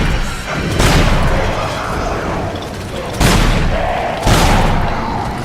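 Heavy gunfire in the video game Bioshock 2, a few loud booming shots spaced a second or more apart over a dense, rumbling game background, with no talk.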